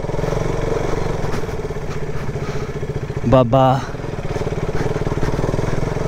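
A dirt bike's engine drones steadily while ridden along an off-road mountain trail, a close, continuous rumbling buzz, with a brief spoken word cutting in near the end.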